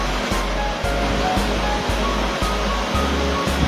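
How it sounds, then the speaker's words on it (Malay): Muddy water pours steadily from one container into the next in a simple water-filtering setup, a continuous rushing, splashing flow close by with no talk over it. "Kita boleh lihat air mengalir dan satu bekas ke bekas yang lain."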